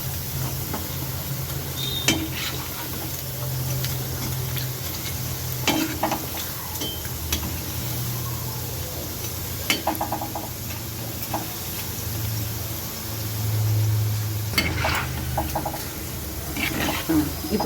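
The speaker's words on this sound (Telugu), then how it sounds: "ఇలా మాడకుండా కొంచెం అప్పుడప్పుడు కలుపుతూ ఉండండి." Onion pakodi frying in hot oil, with a steady low sizzle and occasional stirring scrapes and clinks from a utensil in the pan, close and continuous with no talk.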